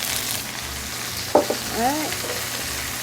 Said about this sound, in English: now I'm going to add just a tad more oil to my pan, and I'm going to put my onions in